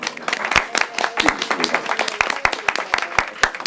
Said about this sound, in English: A little round of applause real quick.